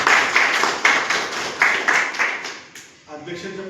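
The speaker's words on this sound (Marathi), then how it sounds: "प्रथमतः आपण त्यांचं जोरदार टाळ्या वाजवून आपण स्वागत करतो." Audience clapping to welcome a speaker at a community meeting in Sangli, a dense burst of claps with loud swells that fades out near the end.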